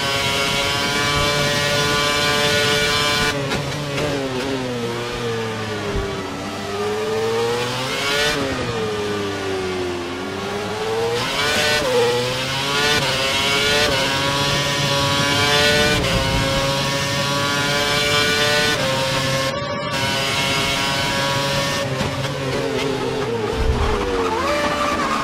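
Formula 1 race car engines in the F1 2011 video game at the British Grand Prix scream at high revs throughout, rising and falling in pitch as cars shift gears, with several cars overlapping loudly and continuously.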